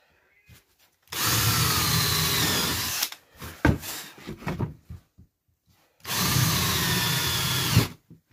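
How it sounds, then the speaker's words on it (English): A battery-powered jigsaw cuts a heart shape from wooden board in two loud bursts of about two seconds each, the blade's harsh buzzing close by, separated by quieter knocks and handling noises. "Not until I start the jigsaw."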